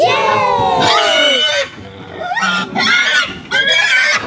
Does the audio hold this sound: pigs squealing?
yes